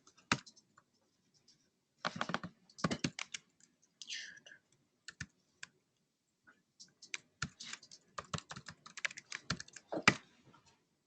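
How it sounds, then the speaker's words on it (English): A password is typed on a computer keyboard in short, quiet bursts of key clicks with pauses between, close by in an otherwise silent room. "you do have to type in the correct password"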